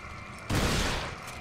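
A single heavy shotgun blast in Resident Evil 4 bursts out suddenly and loud after a quiet moment, then rolls off in a short decaying boom.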